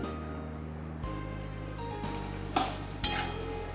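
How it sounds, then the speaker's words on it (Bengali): Pointed gourd with sugar is stirred in a pan over a low steady sizzle, with a couple of distinct utensil clinks against the pan near the end. "চিনি দিয়ে আবার এটা ভালো করে একটু নেড়ে দিচ্ছি"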